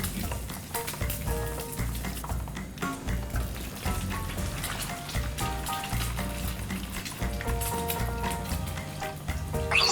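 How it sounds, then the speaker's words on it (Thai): A crispy fried egg sizzles steadily in a hot pan, a continuous loud crackle of frying oil with occasional spatters, no voices. "เดี๋ยวเราไปทอดไข่ดาวมันแป๊บหนึ่งนะฮะ"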